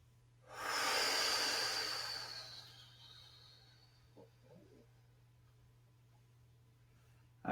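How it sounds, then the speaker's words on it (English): A long, deep breath during a shiatsu breathing exercise, a loud rushing inhale that fades slowly into quiet, with a faint soft sound afterward and a sharp noise at the very end. "Okay, let's do a couple more breaths."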